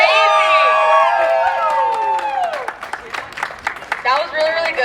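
Crowd at a community event cheers with high, sustained shouts and whoops, then breaks into scattered rhythmic clapping as the voices fade, before a final burst of cheering.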